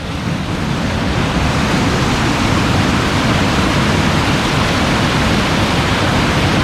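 Water gushing over a steep drop on the South Branch of the Harris River, a loud, steady, broadband roar that fills the whole stretch without a break.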